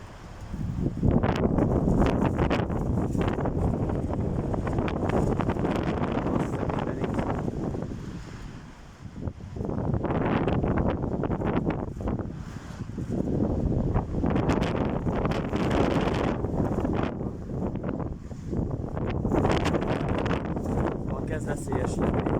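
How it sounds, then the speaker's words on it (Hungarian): A strong windstorm in Pápa, Hungary roars as loud, continuous gusty buffeting against the microphone, easing briefly midway before surging again, while someone speaks at times beneath it. "megint kezd erősödni a szél."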